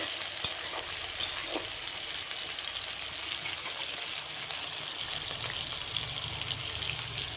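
Carrots and cauliflower fry in a pan with an even, bright sizzle, and a few soft stirring knocks stand out early on; no talking.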